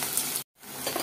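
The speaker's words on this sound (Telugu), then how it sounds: "ఇవైతే వేగనిద్దామండి. ఉల్లిపాయలు చక్కగా మగ్గిపోయినాయండి." Onions sizzling and frying in a pan for a leafy greens curry, a loud close hiss that cuts out briefly in the middle and then resumes.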